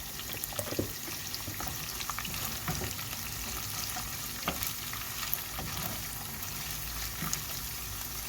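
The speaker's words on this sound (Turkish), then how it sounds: "Şimdi güzelce kavuralım. Şöyle de bakın tereyağı ekledim." Rice sautéing with butter in a pot, a continuous soft sizzle with repeated scraping and tapping of a spoon as it is stirred, close and fairly quiet, no speech.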